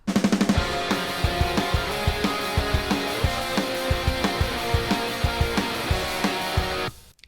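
A programmed drum beat with a steady kick and snare pattern, cymbal wash layered over the top, full and loud throughout before cutting off near the end.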